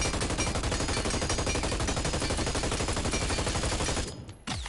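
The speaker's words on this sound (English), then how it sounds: "So it's all lined up, we're gonna shoot." Rapid automatic gunfire from a starter weapon in the video game Hyper Scape rattles loud and nonstop for about four seconds, then breaks off briefly and resumes with a short burst.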